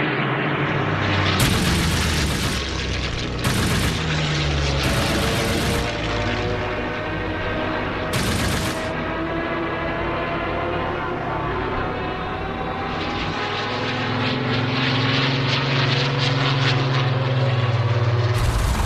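World War II British and German propeller aircraft roar steadily throughout, loud and sustained, the drone of engines swelling and shifting with several brief bursts layered over the continuous rumble.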